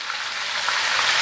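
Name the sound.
mutton raan frying in hot oil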